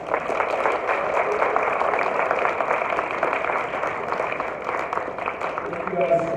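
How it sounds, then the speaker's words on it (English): Students in an East Hartford High School hall applaud a guest speaker, giving sustained clapping that continues steadily over the whole stretch at moderate loudness. "Can you get a round of applause for our guest here?"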